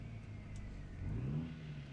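A heavy truck engine in American Truck Simulator revs up and eases off as the driver works through gears on a 10, 13 or 18-speed manual, a steady low drone swelling midway then settling, with no talk.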